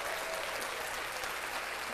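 Applause for an album, a steady wash of clapping at moderate level that fills the short moment with no voices over it.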